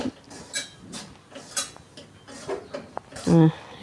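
A thick lentil barfi mixture is stirred continuously in a pan, with irregular scraping strokes and clanks of the utensil against metal, close by.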